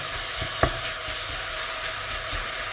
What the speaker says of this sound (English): So we're going to completely brown the mince, mixing it with all our spices.